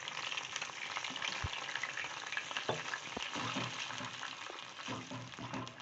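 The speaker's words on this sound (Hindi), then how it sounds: "बस 4-5-6 मिनट स्टर फ्राई करना है, यानी कि सौते करना है।" Beef for beef chilli with gravy is stir-fried in a pan, giving a dense, close sizzle. Scraping and clattering from the stirring keep running through it.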